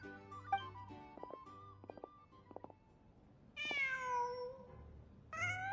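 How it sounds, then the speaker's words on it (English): A cat in the Genshin Impact video game meows several times, with short chirps followed by two longer, louder, drawn-out meows over soft game ambience. "Huh. Just a cat."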